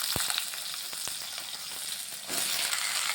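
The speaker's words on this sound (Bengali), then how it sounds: "ভালোভাবে একটু মশলাটা ভেজে নিচ্ছি। এখানে সবজিগুলি দিয়ে দিচ্ছি।" Spices and vegetables fry in hot oil with asafoetida, a dense close sizzle broken by sharp stirring clicks, swelling louder near the end as more goes into the pan.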